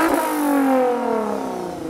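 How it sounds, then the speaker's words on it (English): A Lexus IS 350 V6 engine revs up sharply to a high pitch, then its tone slides smoothly down as it settles back toward idle, heard up close with no talking. "I do like that V6 sound."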